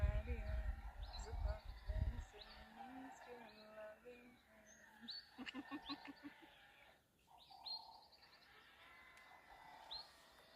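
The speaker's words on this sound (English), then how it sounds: "Listen to all those birds chirping." Birds chirp and call outdoors in a mix of tweets and short trills, fairly faint, while a person talks softly at the start and breathy sounds occur near the microphone.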